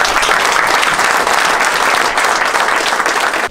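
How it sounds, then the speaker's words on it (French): Spectators at a press conference for the 2018 Diesel Fest in Saint-Eustache break into applause, a dense, continuous clapping from a crowd that holds at a steady loud level throughout. "Puis je pense qu'on pourrait vous applaudir aussi."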